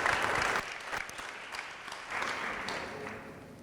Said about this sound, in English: Let's give a round of applause for our lovely panelists.